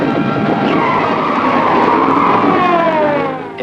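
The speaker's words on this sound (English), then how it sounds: "They go down a 16-foot wide road and do a complete 180 by spinning the car" A car spinning a complete 180 on a 16-foot wide road, one long loud tire skid and squeal with engine roar that fades at the end.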